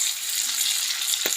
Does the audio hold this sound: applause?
no